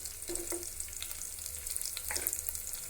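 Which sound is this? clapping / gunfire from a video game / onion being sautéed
onion being sautéed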